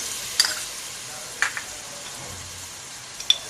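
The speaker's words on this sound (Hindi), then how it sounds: "अच्छे से हमने अदरक लहसुन में भून लिया और अब हम दही डाल रहे हैं" Yogurt is stirred into ginger and garlic already fried in a pan, producing a soft, even sizzle with a few light spoon taps scattered throughout.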